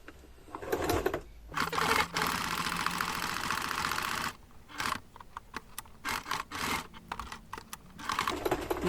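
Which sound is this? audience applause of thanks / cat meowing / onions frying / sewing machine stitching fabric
sewing machine stitching fabric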